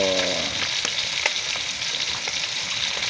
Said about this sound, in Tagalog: binaliktad na natin ang ating prito